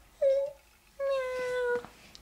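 A young child imitates a cat, giving two drawn-out, high-pitched meows, a short one followed by a longer one, close to the microphone in a quiet room.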